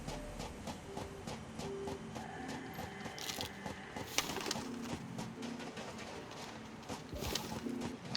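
Birds in the video game Satisfactory give soft, repeated cooing calls, faint and distant over a low ambient hum with scattered clicking footsteps and no talking.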